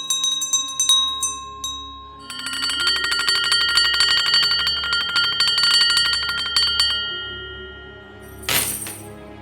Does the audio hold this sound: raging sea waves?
no